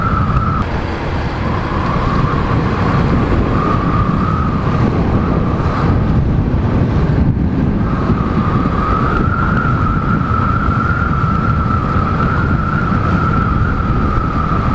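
Strong wind roars across the microphone while riding a motorcycle on a road trip home to Bicol, a loud, steady rushing buffet with a faint engine whine running through it and no talk.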